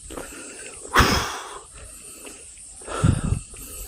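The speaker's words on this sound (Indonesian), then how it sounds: "Saya ngos-ngosan, teman." Heavy breathing from a hiker climbing a mountain trail on Gunung Arjuno, two loud close gasping breaths with a quieter pause between them, no speech.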